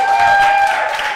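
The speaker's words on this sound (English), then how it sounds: "Can we hear a round of applause for our two finalists?" An audience at a gaming tournament's grand finals claps and applauds for the two finalists, a steady, fairly loud wash of clapping over a brief moment.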